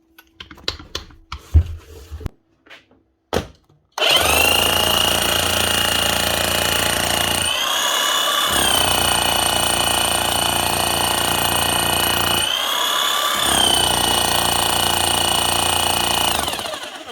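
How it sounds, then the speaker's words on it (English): A few light clicks and handling knocks come first, then a serviced Makita hammer roars into loud continuous running, its motor whine dipping twice briefly before carrying on to the end. "One Makita hammer, serviced and up and running again."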